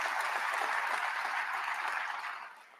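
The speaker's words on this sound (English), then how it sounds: "Yes, you can clap for that." Sustained audience applause fills a hall during an Atlanta mayor's State of the City address, a dense steady wash of many hands that fades toward the end.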